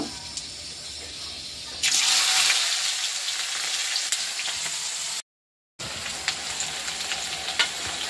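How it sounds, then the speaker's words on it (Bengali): Onion, green chili and whole cumin seeds sizzle in oil in a pan, a steady bright hiss that jumps louder partway through and continues close up with small crackles, broken by a brief silent gap. "পেঁয়াজ আর কাঁচা লঙ্কাটা একটু হালকা করে ভাজা হয়ে গেছে, জিরেও সাথে আছে।"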